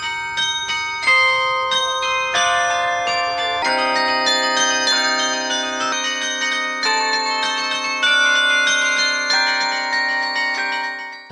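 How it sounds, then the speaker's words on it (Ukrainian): A mobile carillon of heavy bells played from a handmade keyboard rings out loud and clear, successive struck notes overlapping into a sustained, resonant melody with no talk. "Жінка заграла на ударному музичному інструменті, зібраному із дзвонів."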